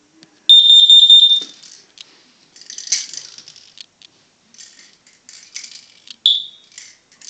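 A carbon monoxide alarm under test gives a loud, close electronic beep, then a burst of chirps and a synthetic spoken warning, followed by a few shorter tones and a final chirp.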